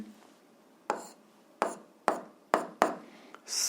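Pen strokes on paper while a physics problem's givens are written down in a quiet room: five or six short, sharp scratching strokes at an irregular pace, close by and fairly faint, with no talking.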